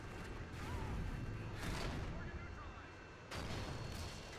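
An AC-130 gunship fires in the video game Modern Warfare 2, heavy cannon booms and bursts of gunfire rolling over one another while someone talks over the action.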